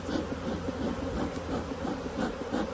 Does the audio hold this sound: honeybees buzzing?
yes